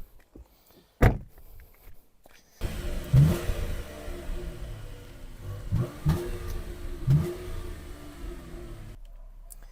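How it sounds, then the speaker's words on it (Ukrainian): Cadillac XTS car heard from inside: a door thunk, then the engine starting up and revving in a few surges with clicks and mechanical whirs, settling down before the sound cuts off. "Ну а поки поїдемо, покатаємось на цьому Cadillac."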